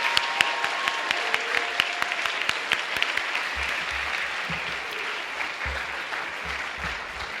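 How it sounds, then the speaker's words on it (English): Sustained audience applause at a spring school orchestra concert, honoring the parents: dense, steady clapping from a sizable crowd throughout, with some low rumble underneath. "One more round of applause, please"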